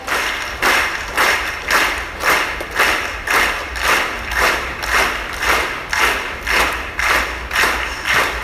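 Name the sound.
congregation clapping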